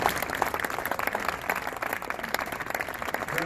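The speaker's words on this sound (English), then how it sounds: "Give a round of applause" Audience applause at a Cardinals Care grant presentation ceremony, a steady wash of many hands clapping that holds at an even level throughout, with no speech over it.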